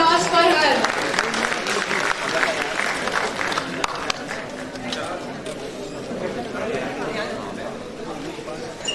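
Audience applause at a medical conference on allied health sciences fills the room, dense and sustained at moderate loudness, with crowd chatter mixed in and gradually settling.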